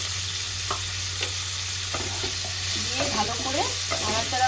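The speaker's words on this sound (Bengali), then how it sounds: "একটু ঢাকা দিয়ে ভেজে নেব সবজিগুলো" Vegetables frying in a covered pan with a little salt, a steady broadband sizzle hissing throughout, with a few soft utensil clinks and scrapes near the end.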